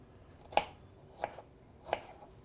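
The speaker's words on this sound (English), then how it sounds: "And then we take and slice on a few strawberries." Strawberries are sliced on a cutting board in three evenly spaced, crisp knife taps, close and clear, with quiet pauses between the cuts.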